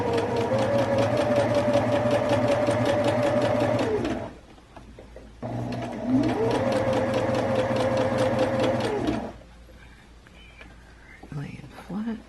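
A sewing machine runs in two steady bursts of a few seconds each while back stitching a face mask seam with a filter pocket, with a short pause between runs and a soft voice speaking near the end.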